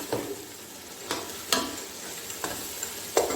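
Ginger and garlic fry in a pot for beef chana pulao, a faint steady sizzle broken by a handful of sharp spoon scrapes at irregular intervals, close but quiet.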